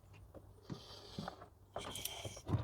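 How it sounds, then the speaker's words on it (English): A plastic frunk tub is fitted into a Tesla Model Y, giving a few quiet plastic knocks, clicks and scraping rubs close by, spaced irregularly with short pauses between. "All right, let's get the tub in."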